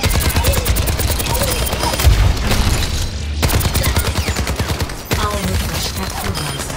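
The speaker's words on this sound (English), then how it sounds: "activate your tactical visor and destroy the training bots" Rapid gunfire from shooting training bots with a tactical visor in the Overwatch 2 tutorial, a dense near continuous burst of shots with a brief pause midway, loud and close.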